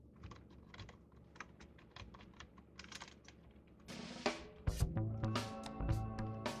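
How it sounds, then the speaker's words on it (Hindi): Typing on a computer keyboard while entering data into an Excel spreadsheet, with irregular clusters of light key clicks followed by louder, sharper keystrokes and a few heavier taps toward the end. "सबसे पहले मैं यहाँ पे टाइप करता हूँ SR नंबर"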